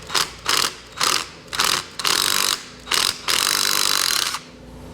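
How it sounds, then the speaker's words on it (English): An impact wrench hammers loose a 10 mm bleeder screw on a 1980 Kawasaki KZ750, firing in six sharp rattling bursts, short at first and then longer, close and loud with no talk. "Hopefully this doesn't snap off because I'm using an impact."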